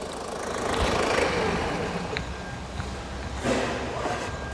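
A Toyota SW4 with a 3.0 turbo engine runs with a steady, rumbling drone, swelling into a fuller roar and then easing back, heard up close without talking.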